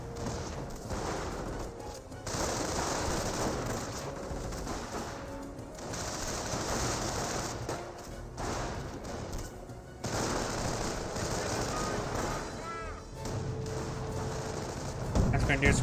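Squad gunfire in the real-time strategy game Company of Heroes, dense rattling volleys of rifle and machine-gun fire in repeated bursts with brief lulls, a commentator talking over the battle.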